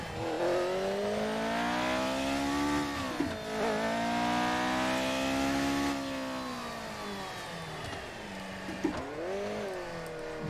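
Formula One racing car engine in the F1 2019 video game, a 1970s car such as the Lotus 72D, Ferrari 312 or McLaren M23, revving hard and loud while pulling away from a start in sixth gear with the clutch, pitch sweeping up and down repeatedly.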